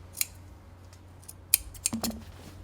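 Tailoring scissors trimming the fabric seam allowance of a tailored jacket collar, giving a few close, sharp snips spaced unevenly across a quiet room.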